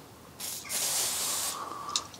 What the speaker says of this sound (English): So if I now was to spray some cooling stuff on it,